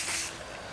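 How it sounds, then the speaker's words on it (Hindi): Hair spray hisses in one strong, close burst of roughly a third of a second while a bridal hairstyle is being set. The spray then cuts off, leaving only a faint room tone. "बस स्प्रे कर दो"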